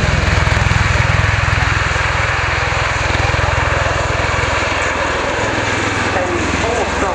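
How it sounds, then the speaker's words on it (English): MV-22 Osprey tiltrotor taking off at an air show with its nacelles tilted forward, a loud continuous thudding rotor beat and turbine roar filling the air, steady and close with a public-address voice faintly beneath. "You see those nacelles just tilting forward now to 80 degrees for the takeoff to begin the display routine."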